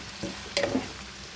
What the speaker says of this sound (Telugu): ఇదండి పాలకూర వేసేసుకున్నా, కలిపేసుకోవాలి మొత్తం బాగా